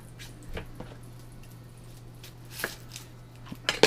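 A knife cuts through an onion on a board with a few scattered, soft thuds and squishy slices at close range, the sharpest strikes coming near the end.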